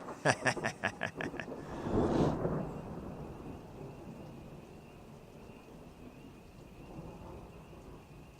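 A thunderstorm: a rapid train of crackling claps builds into a loud rolling thunder rumble, then fades into a steady hiss of falling rain that continues alone to the end.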